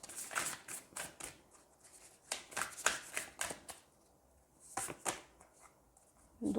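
Oracle cards being shuffled by hand in a quiet room, a run of crisp riffling bursts in irregular rhythm, close and moderately loud, with short pauses between.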